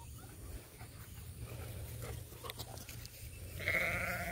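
On a farm, a single faint sheep bleat rises near the end over a quiet outdoor background of soft rustling.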